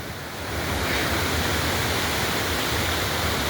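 A free-flowing river running at full force, a dense, unbroken roar of rushing water that swells in the first half second and then holds steady and loud.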